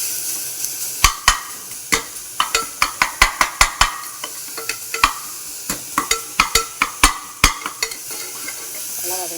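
Ingredients for millet upma are sautéed in a pan and stirred repeatedly. Rapid, sharp metallic scrapes and taps of a spoon against the pan sound in irregular bursts over a low, continuous frying hiss, close and fairly loud.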